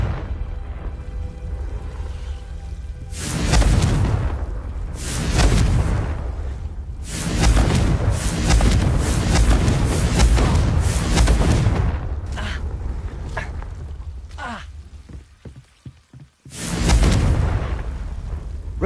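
Repeated Confringo blasting spell explosions in a Hogwarts video game: loud, booming bursts with whooshing tails come in several waves, separated by quieter gaps.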